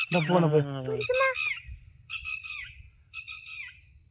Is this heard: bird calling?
yes